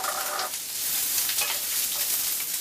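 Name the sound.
onions, carrots, potato and mushrooms sauteing in oil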